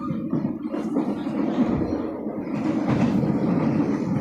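Bengawan passenger train running from Pasar Senen toward Purwosari, heard from inside with a steady low rumble of wheels on rails and faint clickety-clack throughout, continuous and close.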